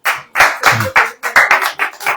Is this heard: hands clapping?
yes